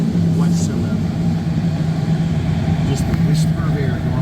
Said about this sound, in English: this is actually a little bit of a loud glider